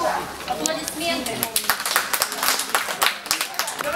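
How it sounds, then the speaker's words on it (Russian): Audience applause at an international cat show, with scattered hand claps over a busy hall and talk continuing underneath. "Аплодисменты."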